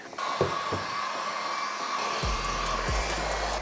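A heat gun starts up and blows with a steady whining whoosh, loud and close, while its motor tone shifts slightly as it is moved over a Corvette C8's glass.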